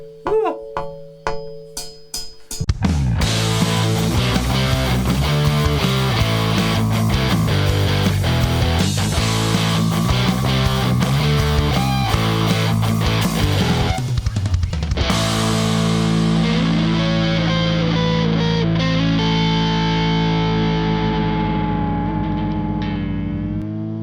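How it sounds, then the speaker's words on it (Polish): A Harley Benton TE-52 electric guitar with tremolo plays through overdrive: a few clean plucked notes, then a loud, thick distorted riff of chugging chords that ends on a long ringing chord fading out. "a ja już puszczam przesterek, ponieważ za chwilę poleci czołóweczka"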